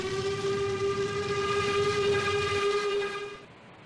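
An LMS Coronation Class steam locomotive in Trainz: A New Era, with the injector opening as a steady, loud whistling hiss of several layered tones that holds for about three seconds and then cuts off.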